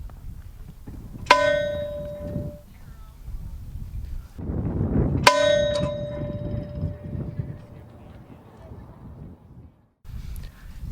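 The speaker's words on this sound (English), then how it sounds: "We will now have the ringing of the Todd Antone Memorial Bell" A memorial bell rung at a high school commencement ceremony, two clear loud strikes a few seconds apart, each ringing out with a long bright decay over faint outdoor ambience.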